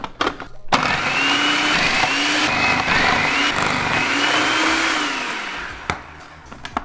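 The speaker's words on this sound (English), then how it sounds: "put in our first onion, put the plunger on top, and we're going to food process" A food processor chopping onion whirs loudly and steadily for several seconds, its motor pitch wavering as it chops, starting and stopping abruptly.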